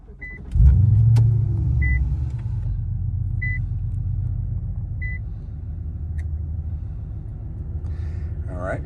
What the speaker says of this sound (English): the blower motor should kick on and blow this tape